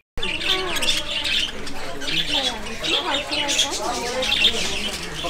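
Many birds squawk and chirp in overlapping bursts inside a petting-farm aviary near Mumbai and Pune, loud and close, with a faint voice mixed in among the calls.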